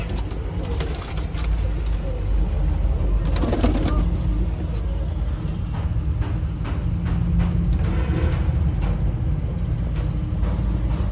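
Sialkoti pigeons coo softly in a loft, their low, throaty calls repeating at a relaxed pace over steady background noise and a few wing flutters.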